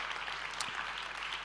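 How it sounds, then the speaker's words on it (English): Festival main-stage audience applause at a sustainable finance session: steady, dense clapping from a crowd, moderately loud and continuous, no speech over it. "This is your applause."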